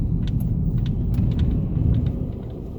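A low continuous rumble of cars passing on a street in the morning stays near and steady, with a few light ticks and clicks over it.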